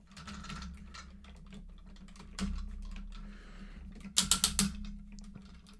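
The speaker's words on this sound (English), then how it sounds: "Twist them round, I've got that excellent clicking noise as usual." Plastic parts of a Transformers Armada Overload toy twisted round, giving a series of crisp clicks and ratchets, some quiet and scattered, then a louder rapid burst near the end, heard alone with no talking.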